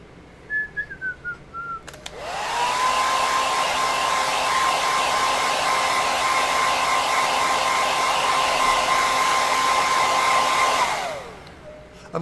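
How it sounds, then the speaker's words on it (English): Hair dryer blowing on freshly painted Mega Man X helmet parts, a steady loud whoosh with a high whine running about nine seconds after a few short bumps, then cutting off. "That's our one coat. Let's hit this with a hairdryer."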